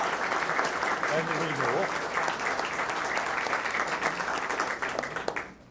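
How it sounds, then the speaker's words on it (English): An audience at a lecture applauds steadily and loudly for several seconds, a dense wash of clapping that tapers off at the end. "Let's give her a clap because of her good job."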